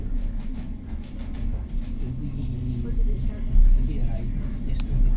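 A train rumbles past at Glasgow Central station with a steady low roar and clattering, fairly close, with faint background voices.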